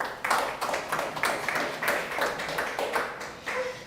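A church congregation at a Sunday worship service applauds to give glory to God, a steady wash of many hands clapping in a large room, moderately loud and continuous with no talk.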